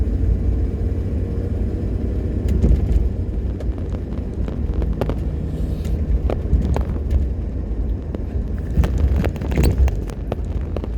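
A Jaguar XJ Series 1 pulling away and driving, with a steady low engine and road rumble, wind buffeting and occasional knocks and rattles from the cabin, close and continuous.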